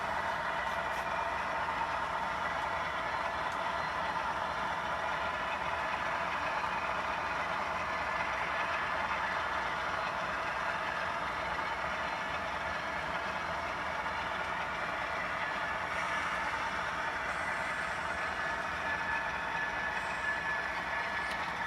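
Model BNSF train rolling into yard limits on a model railroad layout, a steady continuous rumble and whir with no pauses, heard alone without speech.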